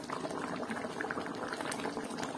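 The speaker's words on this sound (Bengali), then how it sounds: "মাছগুলো ঝোলে ছেড়ে দেওয়ার পর 5 মিনিট মতো মাছ সমেত ঝোলটা ফুটিয়ে নিতে হবে" Katla fish curry gravy simmers in a pan, a steady close bubbling and popping that continues without a break throughout.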